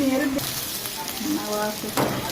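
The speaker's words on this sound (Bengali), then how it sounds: "তেলের ভিতরে দিয়ে হলুদ দিয়ে আর একটু নাড়াচাড়া করতে হবে, একটু ভাজা ভাজা করতে হবে।" Turmeric frying in hot oil while being stirred for khichuri, a steady sizzle with scraping stir sounds, close and continuous over the short span.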